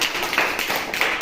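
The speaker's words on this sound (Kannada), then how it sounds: "ಚಪ್ಪಾಳೆ ತಟ್ರಿ ಅವಳಿಗೆ" Children in a classroom clapping for a classmate, a short burst of scattered, uneven hand claps at moderate loudness.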